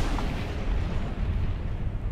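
Rumbling gunfire and explosion boom from the video game Battlefield: Bad Company 2, a dense continuous low roar filling the whole moment at steady loudness with no voices.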